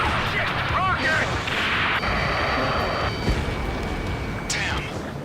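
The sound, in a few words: rocket explosion in Ace Combat 7 video game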